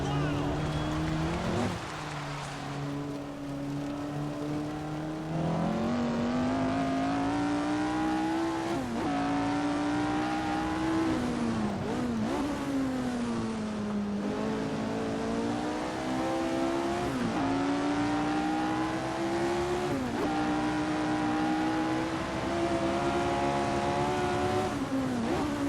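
Lotus 49 race car at Brands Hatch in Assetto Corsa, its engine revving hard in a bright rising wail, dipping on gear changes and climbing again, loud and continuous throughout the lap.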